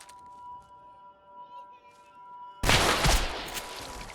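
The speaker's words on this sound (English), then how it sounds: "If you draw your gun again, I'm gonna have to shoot." A sudden loud burst of rapid gunfire in the Fallout 4 video game erupts partway through after a quiet stretch, a dense close volley that carries on to the end of the clip.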